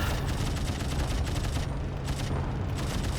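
Aircraft machine guns rattle in the Wings Remastered flight game, a dense, loud run of rapid firing bursts over a constant engine drone, with a brief gap partway through.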